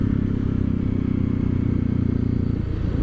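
A 2013 Honda CRF 250 L motorcycle engine runs steadily close by, a low, even single-cylinder rumble with a slight dip near the end and no talking.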